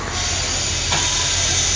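Local train 448 pulls into Hat Yai Junction station in Thailand, a steady loud hiss of steam or air brakes over a low rumble of the rail cars, continuous throughout with no voices.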